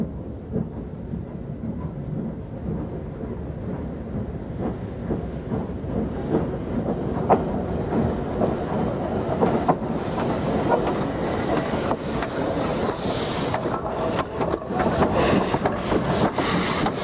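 Isle of Man Railway steam locomotives Loch and Maitland, double-heading up Nunnery Bank, make a loud, steady rumble of working engines and rolling wagons, with wheel squeal and clatter building toward the end, and no talk.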